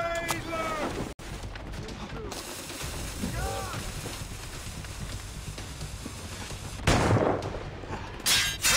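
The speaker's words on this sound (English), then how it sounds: "Grenade launch!" Grenade launcher fire in Assassin's Creed Rogue, with loud broadband blasts bursting out near the end amid game sounds, while voices call out between the shots.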